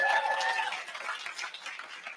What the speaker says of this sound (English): You have to keep clapping.